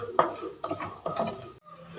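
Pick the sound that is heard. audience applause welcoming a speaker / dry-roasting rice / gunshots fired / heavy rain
dry-roasting rice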